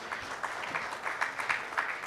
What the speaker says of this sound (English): Can we have a round of applause for all the panelists?